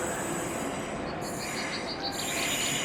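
A train rolling along a railway line through a graveyard, a loud continuous rumble and clatter of wagons close by with high wheel squeal rising and falling over it.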